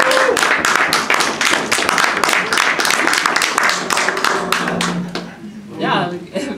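Lively audience applause and cheering greet a comedian at a club comedy show, dense rhythmic clapping filling the room before thinning out near the end as a voice begins over it.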